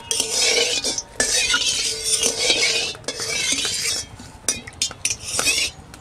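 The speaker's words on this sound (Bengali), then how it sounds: "আর আমি সুন্দর করে কড়াইয়ে সরষের তেলটাকে নেড়ে নেব।" A metal spoon or spatula scraping and clinking around a wok while stirring mustard oil, repeated bursts of scraping strokes with short pauses between them, close and clear, with no talk.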